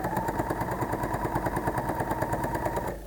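A sewing machine stitches a stretched jersey cuff onto a garment, its steady rapid mechanical chatter close and continuous for a few seconds before easing off at the end.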